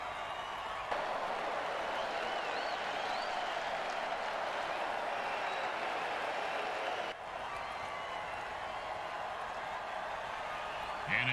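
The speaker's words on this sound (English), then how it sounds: "Oh, crowd's loving it." Crowd roar at a football game, loud and sustained with applause-like wash throughout, a brief dip near the middle before the cheering swells again.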